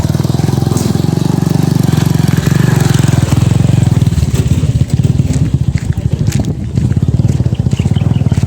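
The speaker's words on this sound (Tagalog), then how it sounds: "Baka may motor, guys." A motorcycle engine runs loud and steady nearby, its low rumble rising as it draws close and then falling away as it passes along the road.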